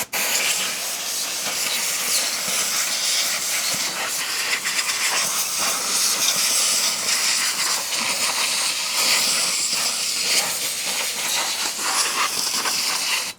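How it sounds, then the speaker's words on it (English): Compressed air blowing off drum brake parts from a Dodge W150: loud continuous hissing rush close by, steady for the whole span with slight pulsing, no talk. "Let me get some compressed air. We're going to blow this off."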